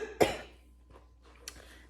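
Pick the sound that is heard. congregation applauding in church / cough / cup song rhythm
cough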